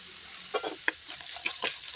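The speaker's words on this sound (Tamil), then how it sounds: "இதை இப்போ வதக்கிக்கலாங்க." Peanuts sauté in hot oil in a pan, a brief close hiss with a few quick scrapes and taps of a stirring spoon.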